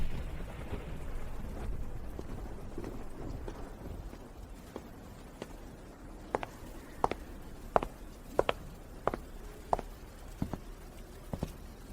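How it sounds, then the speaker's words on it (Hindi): Heavy rain falls outside at night as a steady, soft hiss, with scattered sharper drips and taps standing out toward the end; no one speaks. "आज रात बाहर बहुत तेज बारिश हो रही है।"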